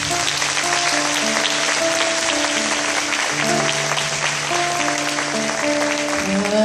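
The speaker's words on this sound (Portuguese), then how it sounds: "Vamos aplaudir o Senhor." A church congregation claps steadily in praise during worship, the sustained applause blended with organ or keyboard chords and singing voices underneath.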